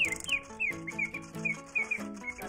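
A mechanical singing-bird automaton with feathers works through a bright, chirping song of quick repeated warbles and downward-sliding whistled notes, close and fairly quiet, with faint mechanical clicks between phrases.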